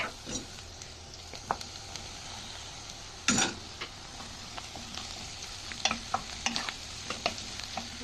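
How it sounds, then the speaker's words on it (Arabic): Onion and potato fry in oil in a pot, a soft continuous sizzle broken by scattered scrapes and clicks of stirring, one sharper clatter in the middle. "هنجيب حلة ونضيف ليها شوية زيت وننزل بالبصل، وبعدين هنسيبها شوية ونقلبها"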